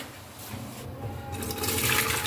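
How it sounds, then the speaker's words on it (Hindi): Jaggery syrup with fennel and cardamom is strained into a mug. It makes a steady, close watery pour that grows gradually louder and splashier with no talking. "इस मग में हम चाशनी को छान लेंगे"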